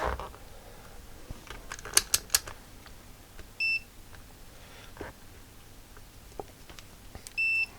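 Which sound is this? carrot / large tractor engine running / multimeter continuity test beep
multimeter continuity test beep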